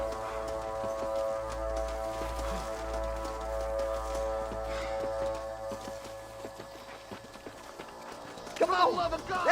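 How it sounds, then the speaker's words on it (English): In the Red Dead Redemption video game, a horse gallops with rapid, rhythmic hoof clip-clops under a sustained musical drone. A shout breaks in near the end. "Watch out for the horse."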